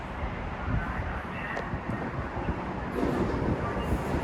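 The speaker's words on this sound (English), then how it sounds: "And here we have a train coming." A Metro North train arrives at Mount Vernon West station with a rumbling, steady low roar and some wind noise, moderately close and continuous.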